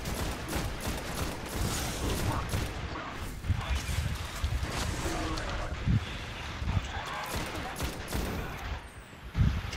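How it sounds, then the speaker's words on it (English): Pulse rifle gunfire crackles in Destiny gameplay over dense, continuous combat noise, with rapid shots, rumbling impacts and a heavier burst near the end. "I pull out my pulse rifle."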